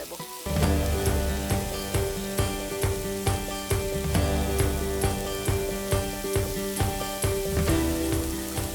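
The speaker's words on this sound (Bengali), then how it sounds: "যতক্ষণ আমাদের বেগুনটা ভাজা চলছে কিমা পুর দিয়ে" Stuffed eggplant filled with minced meat, coated in gram-flour batter, frying in a pan with a steady close sizzle and crackle that continues throughout.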